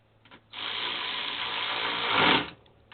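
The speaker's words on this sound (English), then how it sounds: "I'm using my earthquake battery operated ratchet from Harbor Freight" An Earthquake battery-operated ratchet from Harbor Freight whirs steadily for about two seconds and rises in pitch near the end, close and fairly loud, with no talking.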